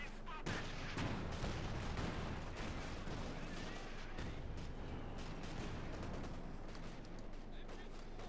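Gunfire, machine-gun bursts and bazooka shots from Company of Heroes 2 rumble on without a break through a snowy battle in a WWII strategy game. Dense, steady battle noise fills the whole stretch, with sharper blasts now and then.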